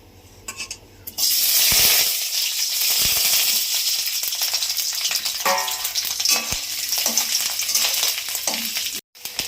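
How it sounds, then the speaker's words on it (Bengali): Loud, steady sizzling of chopped coconut frying in a pan, with occasional stirring scrapes and a brief quiet gap near the end. "এবার ভাজা করবো এই কুচানো নারকেলগুলো, টুকরো করে কুচিয়ে নিয়েছি।"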